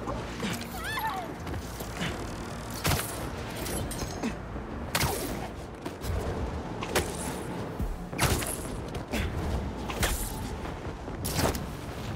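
Fireworks going off in Marvel's Spider-Man 2, a run of sharp cracks and booms at irregular intervals over a steady city-like background, moderately loud and without speech.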